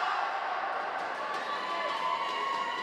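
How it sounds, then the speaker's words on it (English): A rugby crowd at an Australia versus Brazil match chants in a sustained, distant roar, the voices blending into a steady wash of cheering across the stands. "And you're hearing their famous call, Aussie, Aussie, Aussie, oi, oi, oi."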